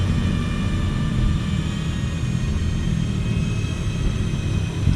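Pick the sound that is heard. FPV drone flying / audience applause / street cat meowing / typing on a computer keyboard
FPV drone flying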